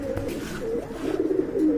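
A pair of Khagji pigeons coo softly and close by, their low, throaty calls rolling in a short repeated run with nothing else heard.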